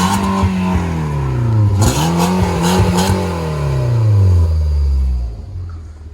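A VW Golf MK4 1.4 with a failing catalytic converter, a bad resonator and the back box exhaust disconnected revs loudly nearby, its raw engine note climbing and falling through several blips before settling back to a rough idle.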